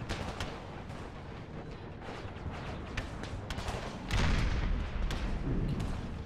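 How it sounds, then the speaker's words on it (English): Howitzer artillery fire in the Empire: Total War Brothers vs. Brothers Civil War mod, with repeated booming shots over a dense battle din that swells into a heavier, louder rumble toward the end. "They're taking some howitzer fire now."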